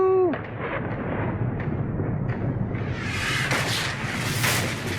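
Ship cannons fire in Pillars of Eternity II: Deadfire, a dense, rolling barrage of booming blasts building to heavy crackling volleys, loud and continuous amid game ambience.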